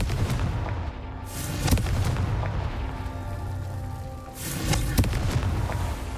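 Fire-spell explosions from Confringo in the game Hogwarts Legacy boom repeatedly, with several heavy blasts and rumbling bursts spaced across a few seconds over continuous game background noise.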